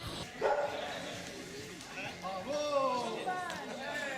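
Dogs yapping and barking at the start of a canicross race, several excited barks and whimpers over a crowd, with a person talking throughout.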